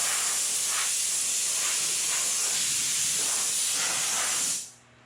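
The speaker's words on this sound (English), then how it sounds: "Tack rag, blowgun, all the cracks, all the surfaces get wiped off before we start spraying." A compressed-air blowgun blasts dust off the surfaces of a 1948 Ford before painting, one loud, steady hiss held close for over four seconds and then cut off abruptly, with no talking.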